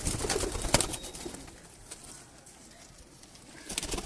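Prized breeding pigeons coo close by in soft low bursts, with scattered clicks and knocks at the start and end.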